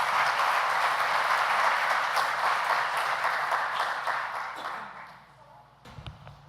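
An audience applauding to welcome a speaker to an academic event: sustained, fairly loud clapping that gradually thins and fades out, followed by a few soft knocks of handling noise.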